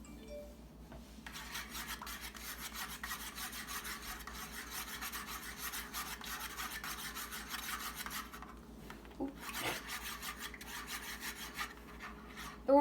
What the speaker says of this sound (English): Now I use a spoon to stir the food coloring into the oil.